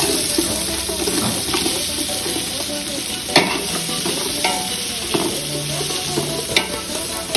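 Onions for chicken biryani sizzle steadily in a hot pan, with a spoon stirring and scraping through them in periodic clinks and a few sharper knocks against the pan, close and fairly loud with no talking.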